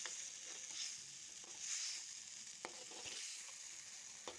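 Eggplant sabzi roasting in ghee in a pan gives a steady soft sizzle, with a few brief stirring scrapes and a hiss that swells now and then, heard close with no talking.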